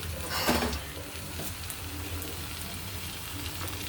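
A little hot water goes into a pan of frying jackfruit and prawn curry, setting off a sharp burst of sizzle that settles back into a steady, close crackle and hiss.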